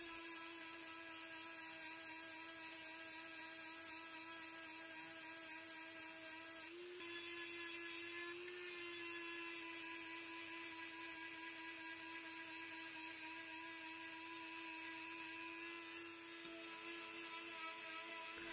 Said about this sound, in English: I'm digging a deep hole with the sanding band and pushing it back and forward